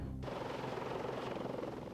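Lynx naval helicopter armed with a homing torpedo flying out to hunt a submarine, a steady loud rotor-and-engine roar that fills the whole stretch without a break.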